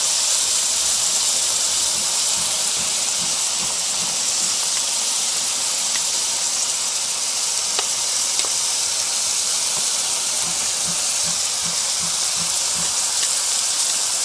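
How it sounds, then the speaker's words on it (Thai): Pork and kimchi stir-fried in a pan, giving a steady, loud, hissing sizzle that runs unbroken throughout with faint scraping of the spatula underneath, close up and without voices. "ก็ผัดให้มันเข้ากันนะครับ"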